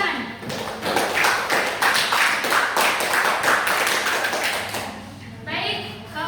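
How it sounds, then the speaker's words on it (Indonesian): A small group of high school students claps together in a classroom, a burst of rapid, even applause lasting several seconds before tapering off. "Tepuk tangan."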